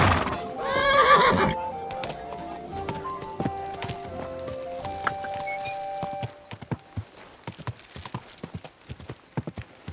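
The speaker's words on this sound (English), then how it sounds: "Oh, that's my horse." A horse in the medieval video game Kingdom Come Deliverance 2 gives a loud, close whinny at the start, followed by tonal game music and then steady clip-clopping hooves on a hard path.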